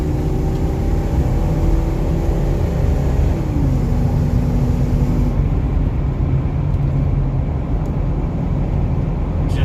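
A 2001 Ford F250 4x4 pickup drives along with a steady, loud engine rumble and road noise, its pitch shifting as it changes gears, and no talking throughout.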